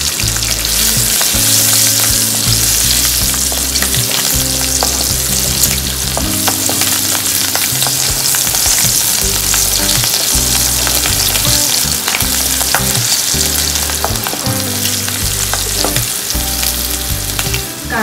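Crushed garlic with green and red chilies sautéing in a pan for a drumstick-leaf vegetable dish, loud continuous sizzling close up, with repeated stirring and scraping of the spoon.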